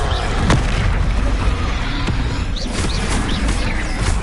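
Spell explosions crack and boom repeatedly amid continuous combat din in the Hogwarts Legacy video game, with sharp impacts scattered across the stretch and a dense, loud background.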